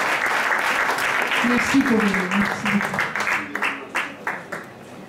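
Audience applause after a love song at a Valentine's show, steady clapping with someone speaking briefly over it as it thins out toward the end.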